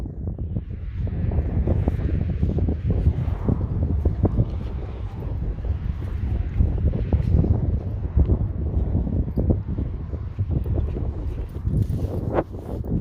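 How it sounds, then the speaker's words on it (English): Gusty wind buffets the microphone on a walk through a field, a continuous low rumbling roar that rises and dips in strength without pause. "It's very windy."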